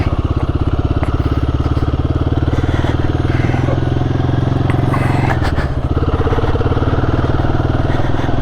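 A Royal Enfield Guerrilla 450 motorcycle on its first ride after fitting a Garmin Zumo and luggage rack, its engine thrumming steadily and loud close to the mic, with a brief dip in revs partway through and no talk.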